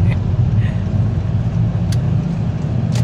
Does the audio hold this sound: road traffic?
yes